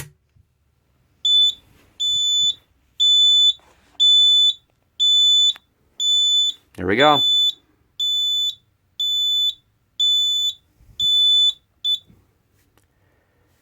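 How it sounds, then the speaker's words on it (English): A Simplex 4005 fire alarm panel sounds a loud, high electronic beep in a steady pulsing pattern, about ten tones in a row, with a brief spoken remark midway. "first time you guys have seen a fire alarm panel activation in quite a long time"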